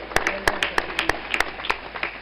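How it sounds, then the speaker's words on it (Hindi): Audience clapping for a young girl at an outdoor yoga and meditation camp on a ground in Faridabad, a brief burst of scattered, crisp claps of moderate loudness, with no talk over them. "जोरदार ताली इस बेटी के लिए।"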